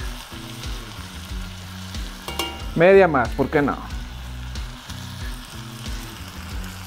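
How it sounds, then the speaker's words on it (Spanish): Onions with a spoonful of sugar stirred in a frying pan as they caramelize for a burger topping give a steady sizzle, with a brief louder clatter of stirring midway while a voice speaks over it. "Y meneamos bien para que se caramelice todo esto muy bien."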